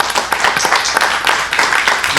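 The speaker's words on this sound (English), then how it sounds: "So I'd like to give him a round of applause" Close, loud clapping from a city council meeting audience, a dense burst of many hands applauding without pause.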